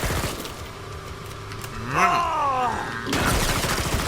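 Gunfire from the video game Killing Floor 2: a sustained, dense volley of shots with a sweeping whine partway through, ending in a sharp louder burst.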